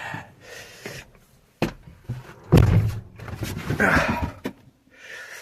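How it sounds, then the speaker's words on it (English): A new tractor's cab door gives several solid thunks and latch clicks as it opens and shuts close by, with rustling movement between the knocks. "Gosh, I love how easy this door opens."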